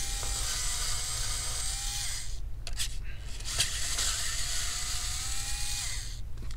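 An electric screwdriver whirs in two short bursts while removing screws from the motherboard of a Dell Inspiron 15 7000 Series P58F laptop, over a steady background hum with small clicks between.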